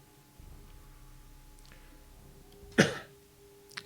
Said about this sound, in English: Excuse me while I like clear my throat.